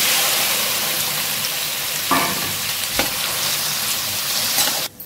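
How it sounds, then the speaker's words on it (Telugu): Half a kilo of tomatoes fry in a spoonful of oil in a pan, a loud, close, dense hiss of sizzling that runs unbroken, with a couple of brief stirring scrapes partway through. "ఇదే కంచుట్లో 1 స్పూన్ ఆయిల్ వేసుకున్న తర్వాత ఒక 1/2 కేజీ టమాటా"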